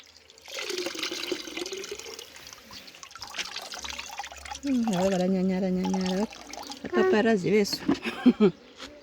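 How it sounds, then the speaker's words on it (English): Liquid organic foliar fertilizer with pesticide trickles and splashes steadily through a sieve nearby, with a person talking over and between the pouring sounds. "So when you are sieving, you eventually have your liquid like that."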